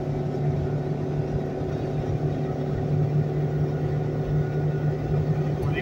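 A Jeep's 3.8 liter engine held at about 4,500 RPM while climbing a hill on a Nevada road, heard from inside as a steady, loud droning hum with a constant low rumble throughout.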